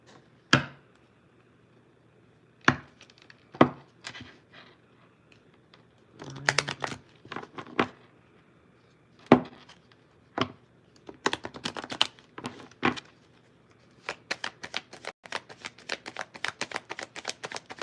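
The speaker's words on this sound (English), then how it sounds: "Cards getting thrown out to the side." A deck of tarot cards is shuffled and dealt out to the side: scattered crisp slaps and riffling clicks, quiet between bursts, then quicker runs of snaps near the end.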